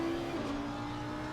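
An Audi R8 race car in a sim racing game at Kyalami, its engine holding a steady, close drone that shifts pitch slightly as it brakes, heard alone.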